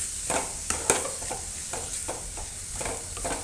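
A spatula stirs chicken coconut thoran with garam masala in a pan, making soft, irregular scraping strokes over a gentle sizzle, with a couple of sharper clinks against the pan.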